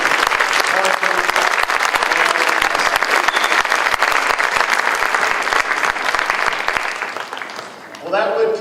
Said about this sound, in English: Round of applause for Addison, Parker,